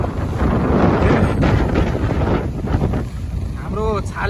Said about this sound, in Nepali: हाम्रो छालले ढुङ्गाहरू यताउति हल्लाइरहेको छ